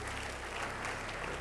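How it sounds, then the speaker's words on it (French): A church congregation claps together in a short, steady burst of applause heard at a moderate distance. "Si tu as compris, donne gloire à Jésus-Christ. Acclame Jésus, le Messie."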